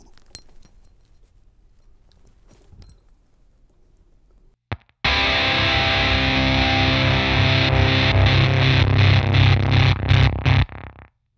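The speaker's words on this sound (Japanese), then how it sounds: "これは、さらに昇圧させて、歪みと音量をアップさせるというもの" A Gamechanger Audio Plasma Coil distortion pedal on its first stage, which adds boost, distortion and volume. Faint scattered noises come first, then a loud, dense, sustained distorted tone about halfway through that holds for roughly five seconds and cuts off abruptly.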